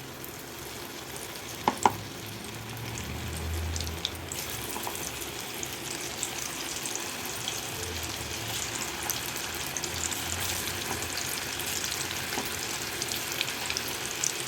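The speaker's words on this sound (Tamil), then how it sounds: "நான் வந்து சிக்கன் 65 தான் பொரிச்சிட்ருக்கேன்" Chicken 65 deep frying in hot oil, a steady dense crackling sizzle that runs throughout with a couple of sharp louder pops early on and faint low clatter beneath; no talking.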